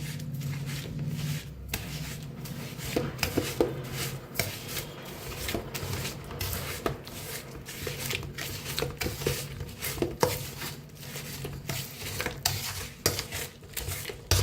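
Semolina being mixed with grated jaggery in a bowl, an uneven run of soft scraping, rubbing and tapping strokes close by, rising and falling irregularly, with no talking.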